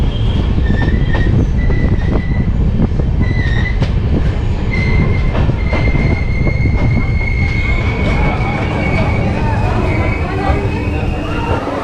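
A Gorakhpur–Mailani express train with new LHB coaches pulls into Lucknow City station, loud and close. The wheels squeal in high sustained tones over a constant heavy rumble of rolling stock.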